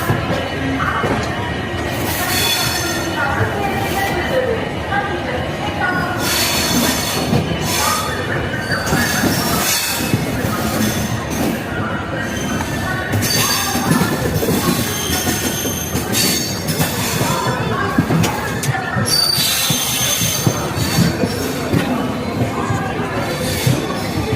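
A Janshatabdi Express passenger train rolls steadily on the rails between Tiruchirapalli and Thanjavur, with loud continuous rumble, rhythmic wheel clatter and occasional squeals, heard from on board.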